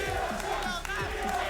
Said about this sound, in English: TSM chants are currently the loudest